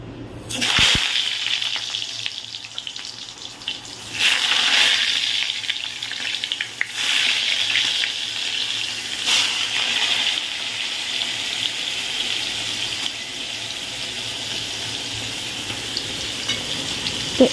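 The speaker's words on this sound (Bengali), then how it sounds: "সাদা তেলের মধ্যে এটা ভেজে নেবো" Eggplant slices salted and sugared fry in white cooking oil with a steady, close hiss and sizzle that swells at moments as the pieces are moved, with no talking.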